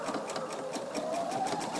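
Sewing machine stitches a dish towel with a rapid, even mechanical chatter, close and steady, its motor whirring slightly rising in pitch, with no talk over it.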